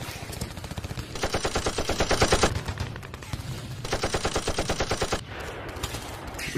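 Automatic AK rifle gunfire in an animated Walking Dead Peppa Pig parody, two long loud sustained bursts of rapid shots with a shorter burst at the end, no talking.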